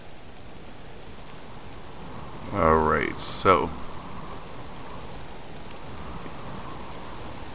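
Steady rain falls during a subsistence fishing outing, a constant even hiss throughout, with a voice speaking briefly in the middle.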